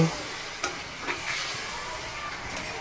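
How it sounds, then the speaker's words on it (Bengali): Prawns frying in hot oil with turmeric and salt, a steady hissing sizzle with a few soft knocks of stirring, moderately loud throughout. "এখন এর মধ্যে আমি একটু একটু করে চিংড়ি মাছগুলো দিয়ে দিব দিয়ে এখন এটাকে আমি লাল লাল করে ভেজে নেব"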